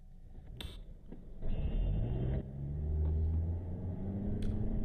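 A car engine rumbles and revs on an Ohio road, rising in a steady low drone with a short higher-pitched burst early on and traffic noise around it.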